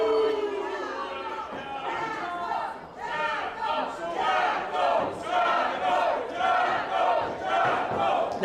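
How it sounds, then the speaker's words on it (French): Crowd at a live wrestling event chanting and cheering rhythmically in a hall, loud and sustained, with commentary talking over it. "La foule qui tente de donner de l'énergie là aux champions intercités."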